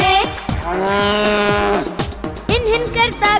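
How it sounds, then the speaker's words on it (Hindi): Cow and buffalo lowing within a Hindi nursery rhyme for kids: loud, drawn-out moo-like calls blend with bright sung melody and backing music throughout the short passage. "गाय भैंस रंभाती है"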